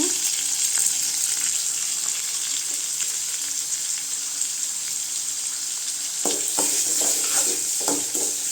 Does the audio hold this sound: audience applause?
no